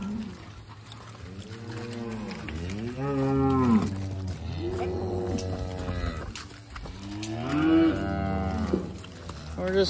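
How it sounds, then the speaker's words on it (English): Cattle on a farm low repeatedly during sorting of cows from calves, several long, loud moos overlapping from close by against a steady background hum. "Putting all the cows outside. Keep all the calves inside."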